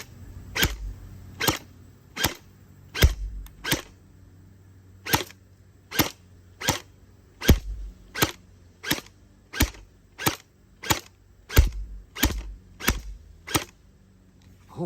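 An AC5000 blaster fires on single-fire mode, giving about twenty sharp, loud shots spaced at fairly regular intervals of well under a second, with quiet gaps between them and no talking.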